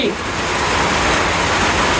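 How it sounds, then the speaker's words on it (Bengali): Steady rain fills the scene with a continuous, dense hiss at an even level from start to finish, with no distinct drops or breaks. "সারাদিন বৃষ্টি"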